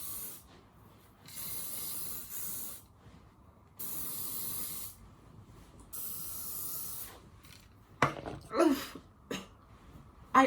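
Hair styling spray hisses over curled hair in several bursts of a few seconds each, separated by pauses, with some handling noise and a sharp rattle near the end.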